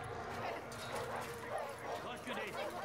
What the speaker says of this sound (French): Doucement, c'est qu'un chien.